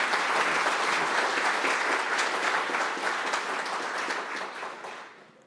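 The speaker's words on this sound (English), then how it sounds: "round of applause" Sustained round of applause from an audience at a professional chapter meeting, dense steady clapping that fades out toward the end.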